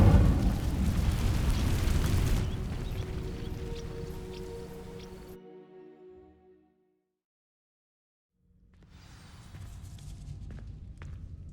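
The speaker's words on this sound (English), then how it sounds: "These dry vines are one spark away from becoming kindling. Incendio!" In Hogwarts Legacy, the Incendio fire spell ignites dry vines with a loud roaring burst that slowly fades to silence. A quieter crackling rustle then returns.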